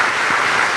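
A church congregation at a Sunday communion service applauds in a dense, loud, continuous wash of clapping, heard only briefly.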